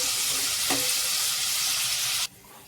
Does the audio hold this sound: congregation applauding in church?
no